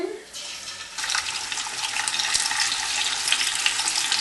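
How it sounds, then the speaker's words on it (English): Bacon dropped into hot olive oil in a frying pan set to high, giving a sudden loud, steady sizzle close by after a brief quieter moment, with spitting crackles running through it. "Now the oil's hot, we're going to add our bacon"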